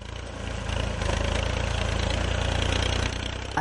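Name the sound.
tractor engine transporting maize produce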